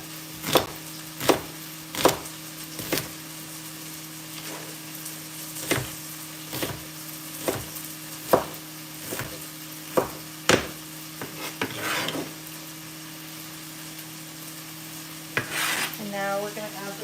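Shallot sizzles steadily in a pan while a utensil scrapes through it in regular strokes about once a second. A low electrical hum sits underneath.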